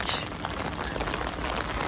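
Rain pours steadily outdoors, a dense even hiss of drops drumming on surfaces, loud and close throughout with no voices.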